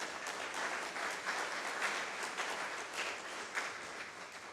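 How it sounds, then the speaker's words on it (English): A conference audience claps in steady, dense applause that fills the room evenly from start to finish without voices. "give a big round of applause for the thousands of civic leaders"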